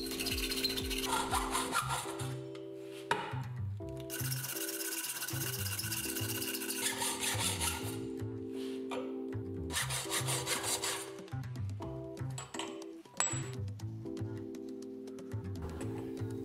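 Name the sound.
metal cutting saw cutting aluminum and steel pipes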